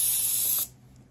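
A steady, loud hiss of spray paint onto a go-kart for about half a second, then it cuts off abruptly, leaving near silence.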